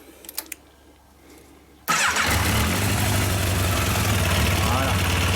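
Yamaha FJ 1200 motorcycle engine cranks and catches abruptly, then settles into a loud, steady close-up idle with a continuous low rumble during carburettor synchronisation.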